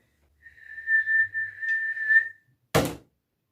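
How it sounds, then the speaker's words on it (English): One person whistles a long, steady, unbroken note for nearly two seconds, then a single sharp bang follows after a brief silence. "That is a long whistle, and then you just do a bang at the end."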